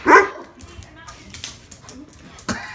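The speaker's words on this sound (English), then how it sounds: "ain't gotta do all that damn barking." A dog gives one loud bark at the start, then softer yips and whimpers follow, with a person talking over it and another bark near the end.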